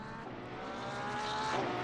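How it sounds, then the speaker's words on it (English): Porsche 992 GT3 R race cars with naturally aspirated flat-six engines scream past at Donington Park, a dense, steady engine roar that swells louder as the field approaches. "naturally aspirated flat 6 in that Porsche 992 GT3R scream"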